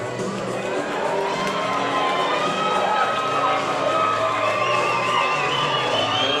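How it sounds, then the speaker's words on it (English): A large crowd roars continuously, cheering and shouting at a steady, loud level throughout, at a boxing event. "Just listen to the roar of the crowd."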